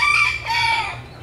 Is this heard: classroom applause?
no